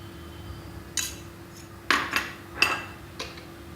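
A spoon mixing spices into mashed potato, heard as a few scattered metallic clinks and scrapes against the bowl over a faint steady hum, close up and without speech.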